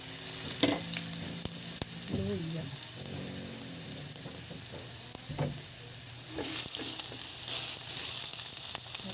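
Ginger sizzles steadily in a little hot oil for a Filipino sarsyado fish dish, a loud continuous frying hiss broken by occasional utensil clinks and stirring knocks.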